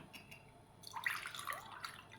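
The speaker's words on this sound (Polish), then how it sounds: "I z tego litra wody odlewam szklankę." Water is poured briefly into a glass, a soft, quiet trickle and splash lasting about a second.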